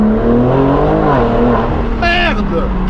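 A BMW M4 with a full straight-pipe exhaust revs loud and close, its engine note climbing and dropping sharply with quick gear shifts, rasping and crackling, with a voice talking over it.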